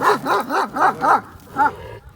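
A twelve-year-old Kangal dog gives about six close, loud, tonal barks in quick succession, with growly edges and a brief pause before the last.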